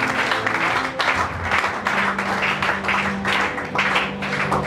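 Church congregation applauding the pastor's wife, a steady wash of dense clapping in several rolling surges that carries on throughout, close and fairly loud.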